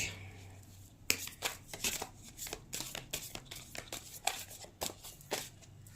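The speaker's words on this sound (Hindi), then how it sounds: "ये डेक काफी बड़ा है, मुझे बहुत दिक्कत होती है इसको शफल करने में।" A large tarot deck being shuffled by hand, with a rapid run of crisp card riffles and flutters close up, starting after a quiet second and continuing in irregular bursts with no talking.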